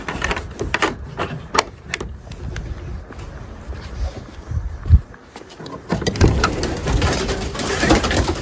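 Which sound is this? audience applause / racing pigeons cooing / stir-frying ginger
racing pigeons cooing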